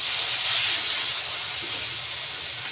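Pumpkin flower fritters in a rice-flour batter with salt, turmeric and chopped green chilli sizzle in hot oil in a wok, a loud, steady hiss with no talk.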